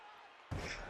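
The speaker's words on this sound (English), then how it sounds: "And now just slamming Daniel Bryan's face into the mat." In a wrestling video game, Edge slams Daniel Bryan's face into the mat, landing as one sudden heavy thud midway after a quieter stretch, followed by sustained arena crowd noise.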